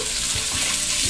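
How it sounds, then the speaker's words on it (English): Stuffed pomfret fish fries in a pan with a steady, close hiss of sizzling oil, punctuated by a few soft low bumps as the fish is nudged. "Fish is fried nicely."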